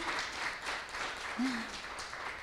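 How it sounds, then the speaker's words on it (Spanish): Congregation clapping together in a church service, a steady dense wash of applause that fills the space, with a voice briefly heard over it. "vamos a dar un aplauso al Señor por nuestras finanzas"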